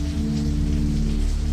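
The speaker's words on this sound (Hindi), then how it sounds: "बाहर से हल्की बारिश की आवाज आ रही है।" Light rain falling outside a shelter at night, a steady soft hiss of drops with no voices, continuous and even throughout.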